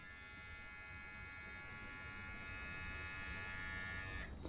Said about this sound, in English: Alright, now let's do the Manscaped.